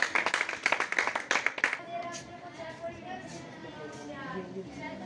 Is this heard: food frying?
no